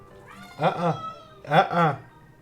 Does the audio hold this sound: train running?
no